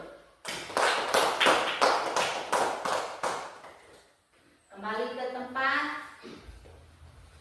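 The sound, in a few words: class applauding a group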